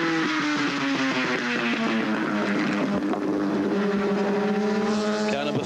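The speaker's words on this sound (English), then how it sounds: "You can hear that high-pitched shrill of the gear change." Race car at the 1979 Bathurst race with a high-pitched, shrill engine note rising and dropping through gear changes, loud and close throughout with a steady, continuous roar.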